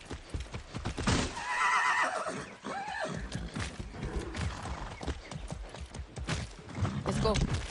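Horse neighing and whinnying with clip-clop hoofbeats while riding in the Far Cry 6 video game, with someone talking over the repeated whinnies and galloping hooves throughout.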